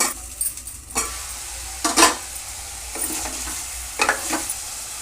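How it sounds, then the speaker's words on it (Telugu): Chicken stirred into browned onions in a hot pan, with loud scraping strokes roughly once a second over a steady sizzle and no voices. "ఉల్లిపాయలు వేగాయి, ఇలా చికెన్ వేసుకోవాలి. ఇప్పుడు కలుపుకోవాలి."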